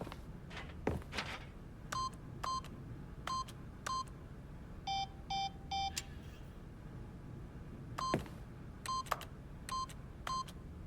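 Keypad beeps in the video game The Stanley Parable sound as a PIN is entered: a series of short, clean electronic tones in small groups, some in quick runs of three, over a quiet room hum with faint thuds.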